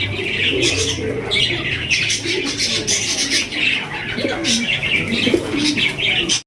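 German Polish satinette pigeons coo in low, rolling notes among chirping birds, set against a dense, busy background hiss.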